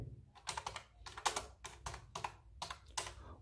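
Arduino program code typed on a computer keyboard, quick bursts of close key clicks with short pauses between them, no voices.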